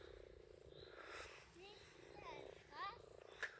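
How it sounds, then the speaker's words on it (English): Small frogs croak at a mountain pond in a loose series of chirpy, rising calls, several in quick succession, against a steady low background hum. "So the strange sounds are all the small frogs."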